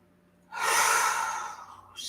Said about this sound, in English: Make your first 2 or 3 exhales be loud so that you can hear them